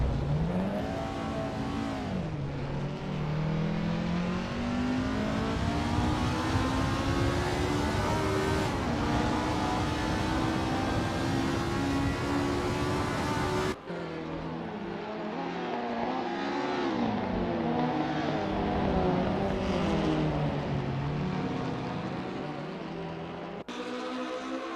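Escort 1600 race cars in the Assetto Corsa racing game at Oulton Park, engines revving loudly and steadily rising through the gears in long sustained pulls, with a sudden cut partway through to another close engine drone.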